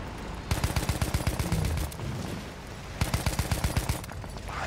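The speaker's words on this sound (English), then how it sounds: "Yeah, that's bombs." Rapid bursts of explosive gunfire-like blasts from bombs in a shooter video game, two clustered volleys of sharp cracks with a lull between, moderately quiet.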